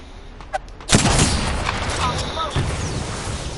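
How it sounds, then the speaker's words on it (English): Apex Legends Season 7 gunfire erupts as a dense burst of rapid shots and impacts, loud and continuous after a couple of faint early pops, with a voice heard around it. "Getting shot at."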